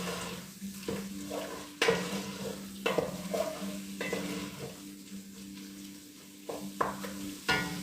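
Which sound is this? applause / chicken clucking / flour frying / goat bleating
flour frying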